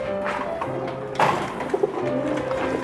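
Pigeons coo in a low, throaty rhythm, several soft repeated calls with one louder burst near the middle, close by and without any talk.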